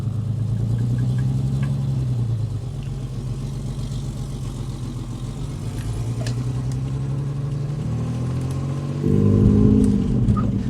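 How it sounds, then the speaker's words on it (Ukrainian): A Nissan Skyline R31 engine rumbles close by at a low idle, then the revs swell as the car pulls away in first gear, the pitch shifting up near the end, with no voices over it. "Ну всі почули, що ми завелися. Так, перша передача."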